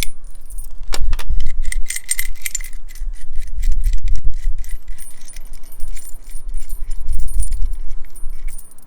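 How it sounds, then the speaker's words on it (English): Metal washers and bolts for a Unaka roof rack on a Ram ProMaster van are handled and jostled, giving bright, close jangling clinks in repeated bursts with low handling thumps between them. "It comes with 2 washers and the bolts. So I'm going to go ahead and take those out."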